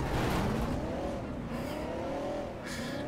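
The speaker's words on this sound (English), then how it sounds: "There's a race somewhere nearby." Race cars roar nearby in the Crackdown video game, engines revving and whining through rising and falling pitch sweeps, continuous and fairly loud throughout, with no one speaking.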